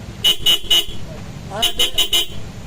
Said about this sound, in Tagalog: yan na this horn, yan yung waterproof na busina para mga Bosch Europa na maliit